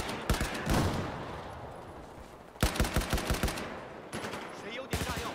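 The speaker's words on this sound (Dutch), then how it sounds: "Ik schiet op die enemy daar" Automatic rifle bursts in a Battlefield 4 multiplayer match, with rapid rattling volleys near and loud, separated by short pauses, three main bursts over a few seconds and no talk over them.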